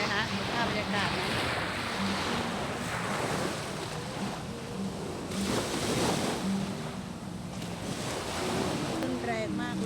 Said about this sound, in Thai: เห็นไหมคลื่นแรงมากเห็นไหมคะได้ยินเสียงคลื่นทะเล